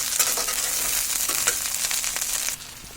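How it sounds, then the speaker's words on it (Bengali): Garlic cloves frying in oil while being stirred, a close, bright sizzle with scraping and clinking from the spoon, easing slightly quieter near the end; no voices. "আমি এই পর্যায়ে এখন ভালোভাবে তেলের মধ্যে নাড়াচাড়া করে নিচ্ছি"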